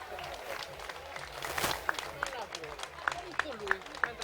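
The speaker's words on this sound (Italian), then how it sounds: "Per cui chiedo un altro applauso" A crowd applauds at a Muay Thai fight night in Quartu Sant'Elena, with scattered claps and sharp cheers running beneath someone speaking loudly over a microphone.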